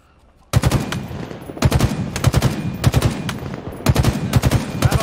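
Automatic weapon fire from a Halo Infinite battle royale match rattles in loud, rapid bursts after a brief quiet start, with several separate volleys in quick succession.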